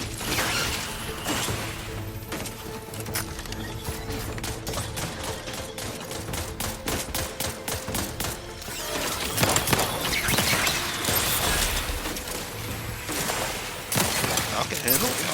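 Rapid automatic gunfire rattles from a gun in the video game The Outer Worlds 2, in long bursts of close, loud shots mixed with crashes, game clatter and a talking voice.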